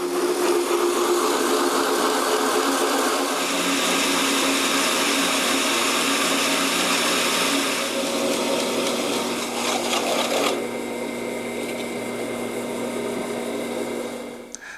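A drill press drives a 2.5 inch hole saw through a workpiece for Willys Jeep grille wall art, giving a steady, loud, whining grind that shifts in tone partway through and runs the whole time with no talk.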